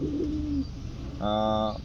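A Mini King pigeon gives two short, low coos nearby, separated by a brief gap, over a steady background hum.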